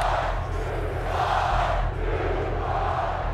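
A sellout crowd at Memorial Stadium keeps up a sustained cheering roar, broad and continuous, with swells of massed voices and no single speaker standing out.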